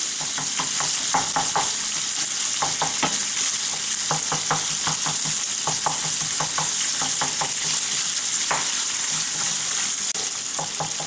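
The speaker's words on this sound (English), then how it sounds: "we want to get this sausage nice and lightly browned" Sausage sizzles and fries steadily in a frying pan as it browns, with a continuous loud hiss and frequent scraping stirs and clicks of a utensil against the pan.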